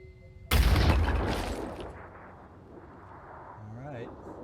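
A grenade blows up in the tactical game Phoenix Point, a sudden loud blast with a broad roar that decays over about a second, followed by a faint voice.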